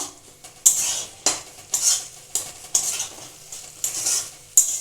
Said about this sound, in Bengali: এবার আমি মশলাটা কষিয়ে নেব।